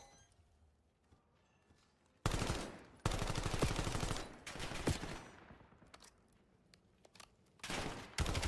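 Bursts of rapid gunfire from a Call of Duty match, loud and dense, in several long volleys with short quieter gaps between them and no talk over it.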